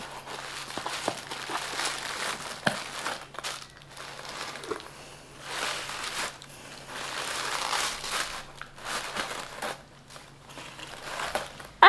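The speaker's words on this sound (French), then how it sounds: "Quel bonheur de déballer des petits colis comme ça" Small parcels being unwrapped at close range, with plastic and paper packaging crinkling and rustling in irregular bursts. The handling noise runs continuously without a pause.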